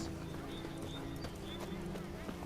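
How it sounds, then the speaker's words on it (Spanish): A horse's hooves clip-clop at a steady walking pace in The Witcher 3, quiet under game ambience and a constant background drone, with voices talking over it. "No estamos muy lejos, pero vamos a seguir con el caballo."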